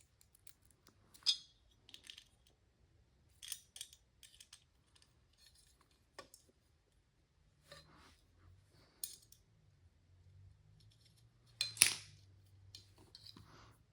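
Nylon lock nuts are tightened on a carbon motor box, with scattered small metallic clicks and ratchet-like ticks separated by quiet pauses, close and fairly faint.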